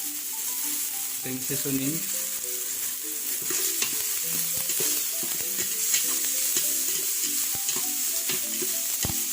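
Tomatoes sautéing in a pan with black pepper and seasoning, a steady close sizzle with stirring clicks and scrapes throughout, a voice talking softly over it.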